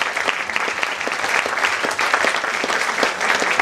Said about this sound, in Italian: Allora, il maestro Alessandro Lobino, un applauso.